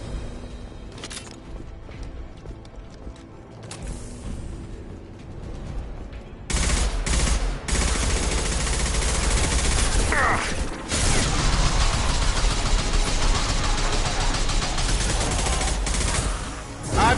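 Gunfire in the video game Mass Effect 2, with dense, loud bursts of shots and mechanical clatter that build from a quieter start into sustained heavy firing.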